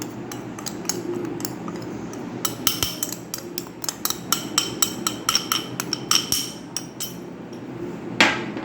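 A utensil mixes sugar into mango mousse ingredients in a bowl, giving a run of quick, fairly regular clicks and taps that pick up pace midway, close and clear with no talking.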